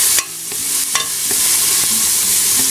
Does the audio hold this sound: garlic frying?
yes